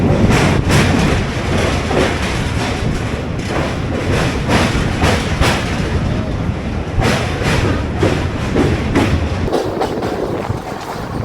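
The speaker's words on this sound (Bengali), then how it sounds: "আর ট্রেন তার একদম নির্ধারিত সময় অর্থাৎ 12টা 5 মিনিটে হাওড়া স্টেশন থেকে ছেড়ে দিল" A passenger train running out from Howrah station, heard from on board as a steady loud rumble with repeated rhythmic clickety-clack thumps of wheels over rail joints.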